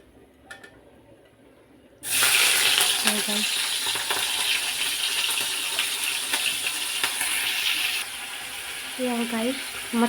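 Prawns frying in hot oil in a wok, a loud steady sizzle that starts abruptly and continues, with occasional scraping and a brief voice near the end.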